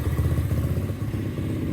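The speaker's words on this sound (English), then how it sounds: "It's idling a little high" A 2023 X-Pro Storm 125cc pit bike engine idles slightly high after the choke is switched off, a close, steady, throbbing putter with light mechanical clatter and no talk.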